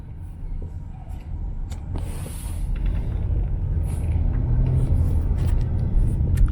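A car's interior drone while driving along North Peters Street toward Canal Street in the French Quarter of New Orleans: steady low engine and road rumble, growing slightly louder, with faint passing traffic hiss and no talk.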